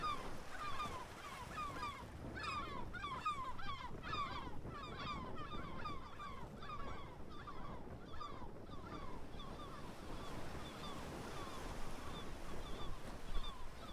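Harbour ducks on the coast, their honking, quacking calls repeating in steady near-continuous chatter over a constant wash of wind and surf.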